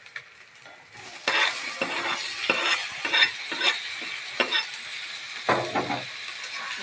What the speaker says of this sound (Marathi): लगेच टमाटर टाकायचं मस्त बाई. मस्त असं परतून द्यायचं.